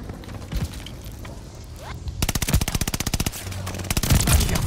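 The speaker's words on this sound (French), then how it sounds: "Attention, tir de mortier allié imminent." Allied mortar strike in Call of Duty: Vanguard: a dense, loud barrage of rapid impacts and bursts erupts midway, hammering in a fast regular rhythm over ongoing battle noise, with heavy booming thuds toward the end.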